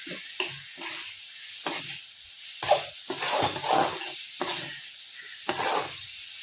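Cooked bitter gourd and potato mashed in a pan, repeated soft squelching presses and scrapes in an uneven rhythm, close and moderately loud.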